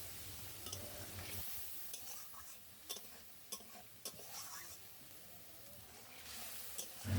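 Potatoes simmering in a pan with added water for Bengali potol aloo posto, a faint steady bubbling sizzle with scattered light clicks of a spoon or lid, alone without talk.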